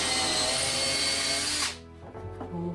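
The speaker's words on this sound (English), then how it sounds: "take my blocking, and just drill right through" A power drill bores right through a wooden block and an IKEA kitchen drawer front during handle installation, a loud steady whine for under two seconds that stops abruptly, followed by a brief quieter rattle and handling sounds.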